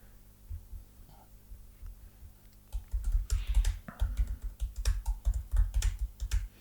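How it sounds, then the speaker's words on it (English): Rapid typing on a computer keyboard into a search bar, close and clear, starting with a few light taps and then settling into a dense flurry of keystrokes over a low hum. "Typing a P into the search bar is dangerous."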